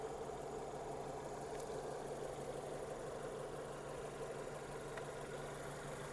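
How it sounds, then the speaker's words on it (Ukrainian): A Renault Scenic engine with automatic transmission idles with a low, steady hum and faint mechanical rattle, quiet and unchanging throughout. "робота двигуна."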